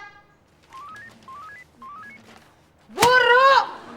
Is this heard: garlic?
no